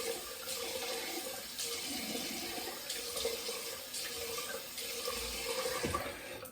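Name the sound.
rinsing razor under running tap water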